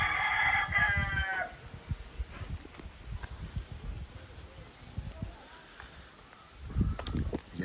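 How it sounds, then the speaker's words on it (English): A rooster crows loudly at the start on Panglao Island in the Philippines, followed by quieter outdoor ambience with scattered clucks and faint voices talking in the background. "The inevitable rooster."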